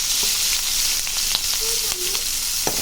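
Chopped onion and green chilies fry in hot oil with a steady, close hiss of sizzling. A few soft stirring scrapes and taps break through the sizzle.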